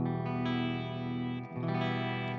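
Electric guitar played through a Blackstar AMPED 3 amp using its built-in reverb, sustained effected chords ringing continuously with a brief dip midway, distorted and chorused tone up close with no talk.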